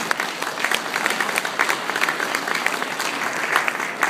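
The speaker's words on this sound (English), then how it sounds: "Let's give him a warm round of applause for Honorary Consul General" A gathering at a diplomatic reception claps warmly for an honorary consul general, a dense, even round of applause with sharp individual claps standing out, sustained from start to finish.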